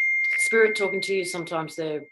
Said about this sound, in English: that was my phone telling me something